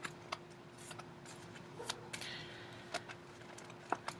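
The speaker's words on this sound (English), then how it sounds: "I've been shuffling the entire reading." Tarot cards are shuffled by hand, giving soft, scattered riffles and light ticks and flicks that come and go at a low level, with a brief denser shuffle midway through.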